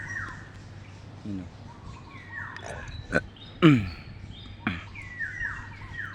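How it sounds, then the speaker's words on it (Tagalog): Wild birds singing outdoors in the morning, a few short chirps and descending tweets scattered at moderate distance, with a brief spoken voice mixed in among them. "Ganda ng ibon. Huni ng ibon."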